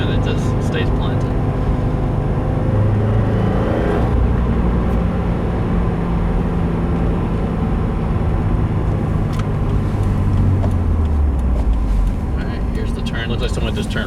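A 2015 Subaru WRX fitted with a Cosworth high-flow panel air filter drives through a sharp turn, its engine droning steadily from inside the cabin with a slow pitch shift as it rolls on and off throttle.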